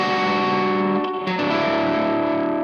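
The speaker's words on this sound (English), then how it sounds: "you switch to your kind of clean tone with lots of reverb" An electric guitar played with a clean tone and heavy reverb lets a sustained chord ring out, then shifts to another chord shape that blooms and washes into the echoing tail. It is close, full and steady, with no voice.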